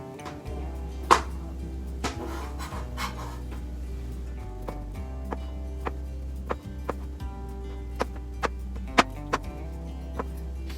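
A knife cuts small potatoes into quarters on a board, making a steady series of crisp, isolated taps roughly every second, close and clear over a faint low hum.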